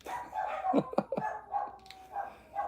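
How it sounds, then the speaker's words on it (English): Several small dachshunds bark excitedly at someone at the front door, a burst of sharp yips and barks at moderate distance with a higher voice sounding over them. "I think I have Amazon or someone at my front door. So my dogs are going crazy."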